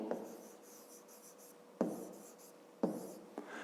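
A pen or marker scratches out a fifth-grade math solution on paper in short bursts of strokes, with sharp taps where each stroke begins, quiet and close with no voices.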